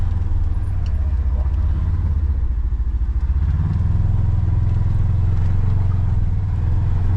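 A Polaris Ranger XP1000 Crew Northstar side-by-side pulling onto a road, its engine droning loud and close as it accelerates and shifts pitch, with rattling and tire noise underneath.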